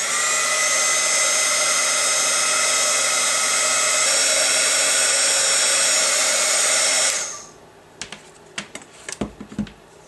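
A heat gun blasts a steady, loud whooshing roar for about seven seconds while melting embossing powder on a rubber stamp for black-and-white wedding invitations. It then cuts off, followed by a few light handling clicks.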